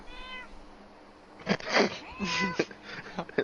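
A house cat meows several times indoors, a few clear drawn-out calls close by, with people talking and exclaiming around and over it.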